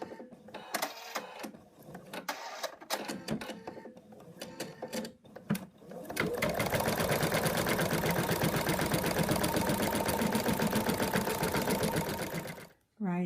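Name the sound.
embroidery sewing machine stitching fabric onto stabilizer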